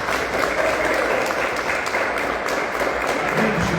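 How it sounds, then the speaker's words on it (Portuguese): Applause from a church congregation during a worship service, steady dense clapping that fills the whole moment without a break. "As palmas louvam o Senhor Jesus."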